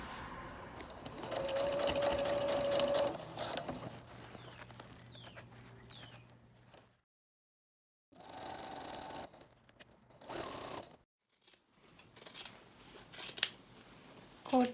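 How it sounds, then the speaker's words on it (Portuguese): A sewing machine runs in a burst stitching the open binding of a ballet bodice, then pauses, followed by shorter runs of an overlock machine trimming and finishing the edge, with quiet gaps between. "agora eu vou costurar o vivo aberto. Eu vou passar uma costurinha aqui e vou depois limpar com o overlock"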